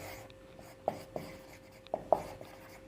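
A pen scratches across paper while an application letter is handwritten, giving a few short, faint strokes and taps in a quiet room with no talking.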